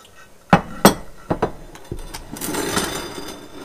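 Lime congealed salad mixture goes into a small square glass baking dish, with a few sharp clinks and knocks against the glass followed by softer wet scraping and sliding, close by with no talking.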